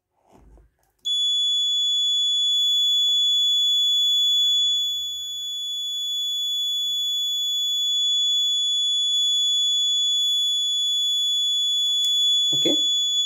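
Homemade MQ2 gas detector alarm built around an LM324 amplifier sounds a loud continuous high-pitched electronic tone that starts abruptly and holds steady for over ten seconds, with faint handling noises and a brief voice near the end.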